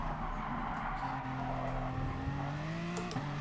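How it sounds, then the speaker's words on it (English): Engines drone steadily as racing cars slide and skid through corners during a GT Sport Nations Cup online race on Dragon Trail, with tire squeal and shifting engine pitch under constant game noise. "Someone's trying to slide the car now through the corners a bit more."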